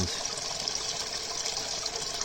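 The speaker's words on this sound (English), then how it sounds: "the water is flowing under there, and the water out here on the ground is just going straight into it" Floodwater in a backyard on a small Japanese mountain pours steadily into an underground drain, a continuous close rushing gush with no pauses.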